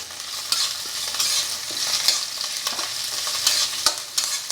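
Curry leaves, green chilies, ginger and garlic fry in hot oil in a pan, a steady close sizzle broken by spatula scrapes and stirring taps, with no voices.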